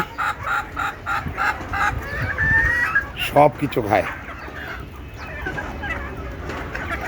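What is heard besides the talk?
desi chickens clucking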